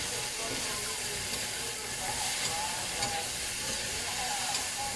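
Cabbage tossed into a hot frying pan while cooking pancit cabagan, giving a steady broad sizzle and hiss that holds evenly at moderate loudness, with faint stirring clinks.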